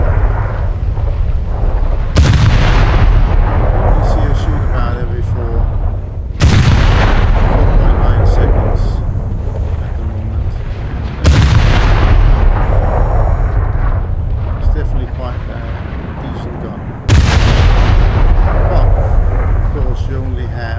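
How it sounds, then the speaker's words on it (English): Heavy ship guns in a naval video game fire at a destroyer in four loud, booming salvos spaced a few seconds apart, each blast rolling off into a long rumbling decay. "If we go and shoot against the destroyer here, so we just select it,"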